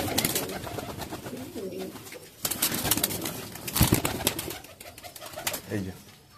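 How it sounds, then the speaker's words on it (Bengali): Pigeons, including golden and Kamagar breeds, coo in low throaty bursts and flutter their wings restlessly nearby, with sharp flapping spikes between calls and a voice speaking briefly in the background. "হ্যাঁ পায়রা ছটফট করছে"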